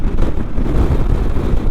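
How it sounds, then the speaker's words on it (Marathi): Strong wind on a monsoon motorbike ride through Kasara Ghat on a Yamaha FZS V roars into the microphone as a loud, continuous low buffeting rumble with no break. "एवढी हवा आहे मजबूत."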